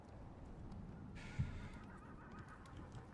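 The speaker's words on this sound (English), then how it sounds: "Oh, the horse." A horse in the video game Icarus neighs, a short whinny that rises briefly over a low background rumble, heard at moderate distance with a faint thump just before it.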